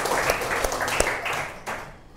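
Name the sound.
audience applause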